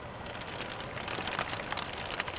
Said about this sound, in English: It's storming, it's like raining.